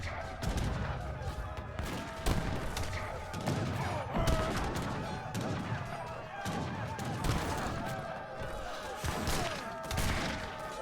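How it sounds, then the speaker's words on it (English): Cannon fire battering a castle in the Age of Empires III real-time strategy game, a steady barrage of booming shots and thuds every second or so, with sharp impacts layered over a dense, continuous battle din. "I'm gonna take this cannon and start shooting at that castle."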